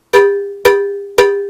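A cowbell's rim hit with a stick three times in steady rhythm, each stroke a sharp, full metallic clank ringing out between hits, close and with no other sound.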